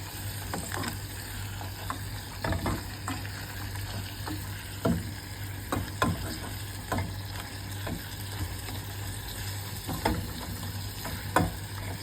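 A spoon stirs and mixes food in a frying pan, giving repeated scraping clicks at an irregular rhythm over a soft sizzle and a steady low hum.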